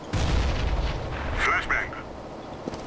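A grenade detonates in Counter-Strike GO with a loud, booming burst that fades into rumbling debris. Brief sharper pops follow and a voice speaks over the tail.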